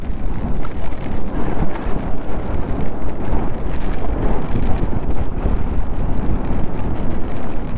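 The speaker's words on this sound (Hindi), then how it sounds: "हवा का प्रेशर बहुत ज़्यादा है यहाँ पे।" Strong monsoon wind on Kaas Plateau roars and buffets the microphone in a dense, steady rumble, loud and close throughout, with no voices.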